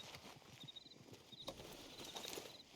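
A horse galloping away in Red Dead Redemption 2: faint, quick rhythmic hoofbeats receding over soft outdoor ambience, with light chirps of birds in the background.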